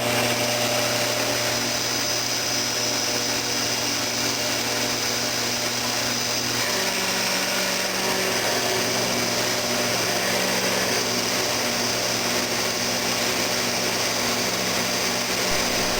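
Milling cutter slotting aluminum at a 7 inch per minute feed, a steady continuous machining whine with a low motor hum underneath, running unbroken and fairly loud with no talk.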